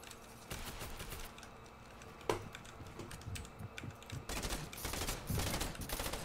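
Rapid shotgun and automatic gunfire in a first-person shooter video game, a dense run of bursts with one sharp louder blast midway and heavier firing near the end, fairly close and continuous.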